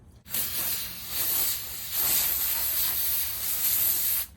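Aerosol cleaner and degreaser spraying onto a 3rd gen Toyota 4Runner bumper in a home garage, a steady close hiss that runs in several long bursts with brief dips between them.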